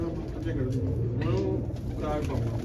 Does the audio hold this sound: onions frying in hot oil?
no